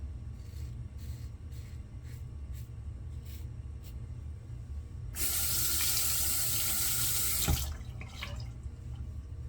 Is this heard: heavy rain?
no